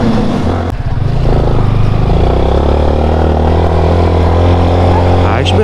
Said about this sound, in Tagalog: Ang ganda yung tunog ng big bike sa likod ko.